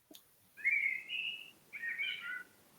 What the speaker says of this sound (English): Sounds like a blackbird.